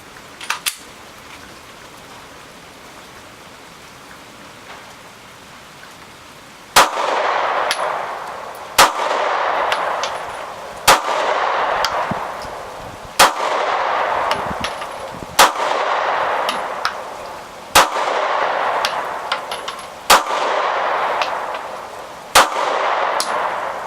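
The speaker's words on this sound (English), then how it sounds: "Next time I'll be shooting a Glock 26 that I picked up over the winter." Gunshots from a Glock 26 pistol fired outdoors, about eight sharp loud cracks spaced roughly two seconds apart, each followed by a rolling echo, after a stretch of quiet background.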